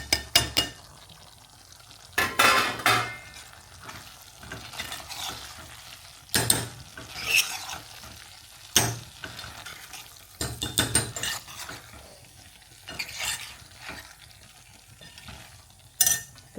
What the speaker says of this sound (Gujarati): તો હવે આપણે તેમાં પનીર નાખી અને મિક્સ કરી દઈએ.